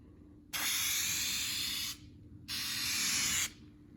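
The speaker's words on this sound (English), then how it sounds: "spraying on the license plate" Two long bursts of aerosol spray paint hissing close by onto a license plate, the first about one and a half seconds, the second about a second, separated by a short pause.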